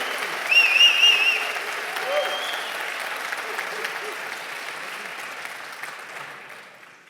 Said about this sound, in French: Bravo, vous pouvez l'applaudir.